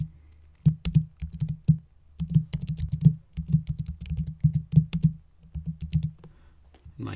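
Computer keyboard typing in quick bursts of close, crisp key clicks with short pauses between runs, alone without any voice.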